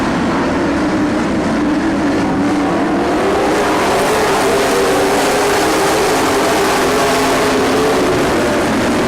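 Three race cars run side by side down the front straightaway, a loud, close, sustained engine roar with a slowly rising pitch, heard on its own without commentary.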